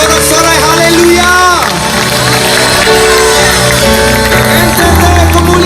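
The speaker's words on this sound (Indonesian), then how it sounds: "Saudara, sorak-sorai haleluya." A huge crowd at a church healing rally in a stadium in Kupang roars and shouts hallelujah, a loud, dense, continuous wash of voices with a lead voice calling over it.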